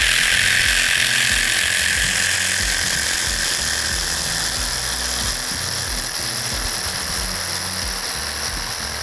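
A Mollar JS500 electric jigsaw cuts wood at maximum speed, a loud, continuous high-pitched motor whine over a fast, rhythmic chattering of the reciprocating blade, close and sustained throughout.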